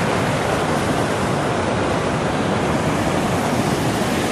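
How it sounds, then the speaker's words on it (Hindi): A village river swollen after heavy rain rushes past in a dense, constant roar of flowing water, loud and close with no other sounds. "काफ़ी ज़्यादा ज़ोरदार बारिशों के बाद पानी आ रहा है नदी में"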